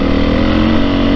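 A 2022 Beta 430 RR-S dirt bike engine revs hard and steady, a dense, loud, continuous mechanical roar with a strong harmonic drone filling the whole moment and nothing else over it.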